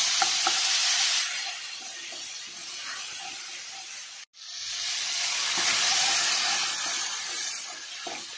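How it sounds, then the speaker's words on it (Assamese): Five-spice seeds and turmeric fry in hot oil in a home kitchen, giving a steady, close sizzling hiss that drops out for a moment and then resumes. "পাঁচফোৰণকেইটা ফুটি অহাৰ পিছতে ইয়াতে হালধি দি দিছোঁ"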